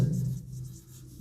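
Pen or pencil scratching on paper while a math solution is written out, a brief close rubbing stroke that fades quickly, quiet with no speech.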